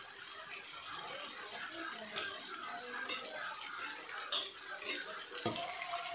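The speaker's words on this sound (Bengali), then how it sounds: "জল দিয়ে দিচ্ছি" Water poured into a pan of potato and pointed gourd curry cooking in oil and spices, a steady close splashing wash that runs on for several seconds with no talk.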